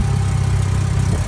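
A golf cart engine with a newly changed carburetor runs steadily while still warming up, a loud, close, even low rumble with no revving.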